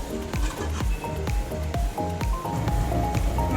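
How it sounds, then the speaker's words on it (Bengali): Fish curry broth in a covered pot on the stove, bubbling steadily with repeated soft pops and plops, fairly close and continuous, with no voices. "মাছের ঝোল ফুটে গেছে, ঢাকা তুলে নেব।"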